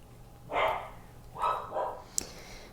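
A dog barks indoors in the background, three or four muffled, distant woofs spread over a couple of seconds, followed by a faint click.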